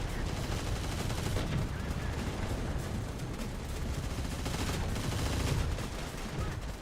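Heavy .50 caliber machine guns hammer away in Terminator Dark Fate Defiance, a dense, continuous wall of automatic gunfire and battlefield rumble with overlapping bursts filling the whole stretch at steady loudness.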